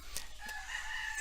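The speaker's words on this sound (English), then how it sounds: "so we have chickens and animals and dogs and animals everywhere." A rooster crowing somewhere in the Bali countryside carries faintly from a distance over constant background noise in one short, drawn-out call.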